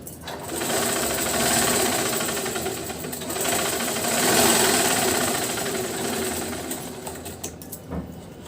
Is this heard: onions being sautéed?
no